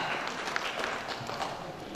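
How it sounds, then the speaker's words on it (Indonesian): Applause for newly sworn-in DPRD Serdang Bedagai members at an inauguration ceremony: a steady, dense wash of many hands clapping together in a large hall, continuous and even throughout. "Tepuk tangan untuk anggota DPRD Sumut kita."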